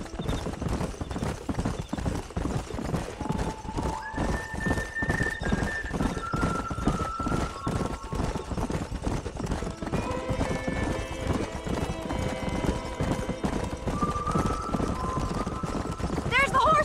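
Horses in the Red Dead Redemption 2 video game gallop with a fast, continuous clip-clop of hooves, punctuated by whinnies and neighs, while people talk over the rhythmic pounding.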